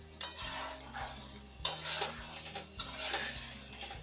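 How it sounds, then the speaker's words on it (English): A spoon scraping and clinking against a cooking pot while chicken pieces are stirred in gravy, a few sharp metallic taps spaced about a second apart with soft wet stirring between, over a low steady hum. "Stir it well so that every piece gets well coated with the gravy."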